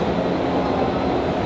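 A train rumbles steadily on the rails at a Washington DC station, a dense, loud, continuous roar with no distinct events or voices.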